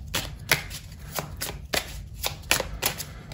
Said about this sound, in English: let's get some oracle cards to further this message